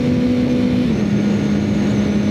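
Steady motorcycle engine drone with strong wind noise and a headwind, one tone dropping slightly in pitch, cruising at highway speed.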